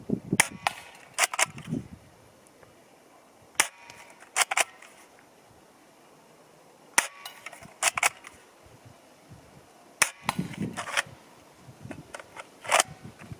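A Steyr TMP (Double Eagle) fires at a paper target 10 meters away on a range: sharp, sparse cracking shots, some single and some in quick pairs, separated by quiet pauses.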